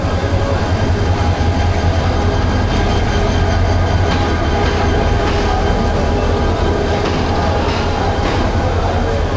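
Upaban Express intercity train running on rails, a steady loud rumble of wheels and carriages with a continuous low roar throughout.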